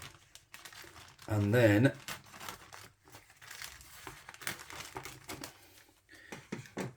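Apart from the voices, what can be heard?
cutting open a plastic bag of frozen chips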